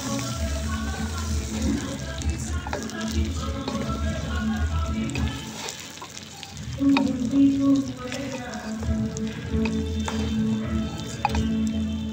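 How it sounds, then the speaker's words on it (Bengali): A kilogram of India Gate basmati rice fries in a pan for a family picnic, giving a close, steady sizzle with stirring scrapes and wet squishing throughout. "চালটা আমি ভেজে নিই।"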